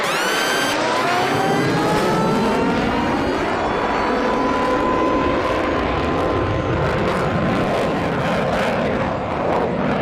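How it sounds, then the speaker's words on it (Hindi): Loud military fighter jets roaring overhead in Pakistan, a continuous powerful engine rush with a falling whine as the aircraft pass, dominating the whole stretch without talk. "पाकिस्तान में लगातार लड़ाकू विमान उड़ते हुए दिखे हैं।"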